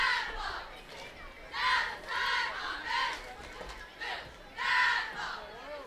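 Hometown crowd in the stands at a high school homecoming football game, distant cheering and shouting swelling in waves, with a faint voice over the top.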